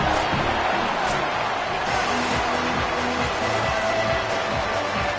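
A home crowd in a college football video game roars steadily ahead of a kickoff, a dense, continuous wash of distant cheering that never lets up.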